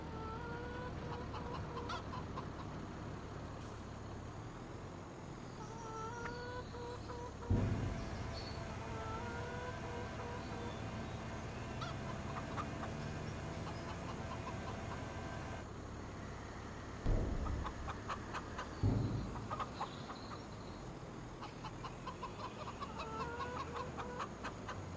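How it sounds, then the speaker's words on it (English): Chickens cluck and chatter in a farmyard in Farming Simulator 25, several birds calling in short repeated bursts over a quiet ambient bed, with a couple of louder thumps partway through and no voices. "Look out, chickens."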